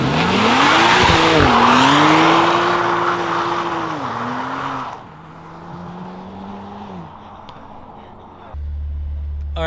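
BMW with an N54 engine and a Stage 1+ burble tune accelerating hard, its exhaust loud and close with rising engine tones, rough popping and a brief lull before the pull resumes.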